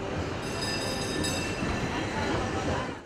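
A tram runs along rails in Barnaul, producing a continuous loud rolling rumble with faint high metallic squeals from the wheels and a hint of talk underneath.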